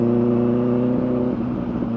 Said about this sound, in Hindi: थोड़ा सा ज्यादा RPM पे चला लेते हैं